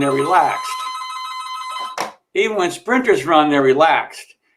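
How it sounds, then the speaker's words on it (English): A telephone rings with a bright, repeating electronic tone during a sports talk show, starting under a man's speech before more voices continue talking over it. "sorry about that phone."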